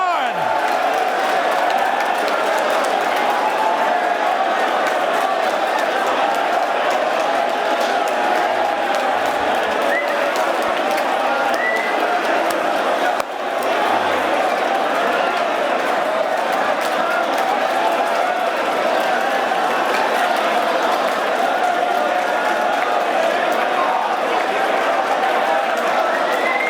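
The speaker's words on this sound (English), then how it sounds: "Cheer him on like he's the fucking champ, like you're hearing God speak" A large crowd cheers, claps and whoops continuously as if for a champion, a dense, steady roar of voices with a brief dip midway.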